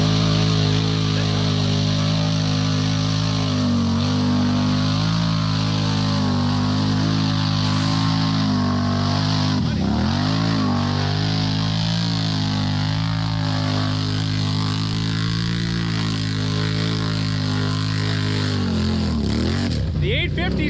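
A 2021 Can-Am Renegade 1000 XMR ATV engine roars steadily at full throttle while churning through mud, a loud continuous drone with rising and falling pitch throughout.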